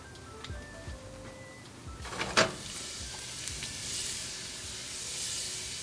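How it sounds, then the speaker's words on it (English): Garlic frying in oil in a pan for an eggplant stir fry, a few soft knocks and then a rising, steady sizzle and hiss that carries on close and alone. "We just kind of want the oil to be infused by the garlic, so let that kind of fry a little bit before we add our ginger."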